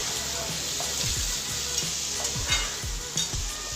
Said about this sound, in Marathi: कांदा जरासाच परतल्यानंतर लगेचच बटाटे टाकायचे म्हणजे कांद्यासोबतच बटाटा देखील छान असा भाजला जातो